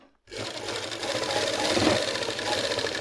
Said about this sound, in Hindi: अब करते सिलाई इसमें बाहर से मारनी पड़ती नहीं इसमें